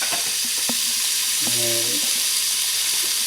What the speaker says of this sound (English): I'm just going to put the meat in and brown this